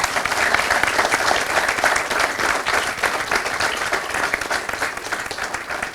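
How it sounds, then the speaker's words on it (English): Audience at a finance conclave panel discussion breaking into sustained, dense applause, many hands clapping steadily and fairly loudly for several seconds without pause. "Let's give them a big round of applause."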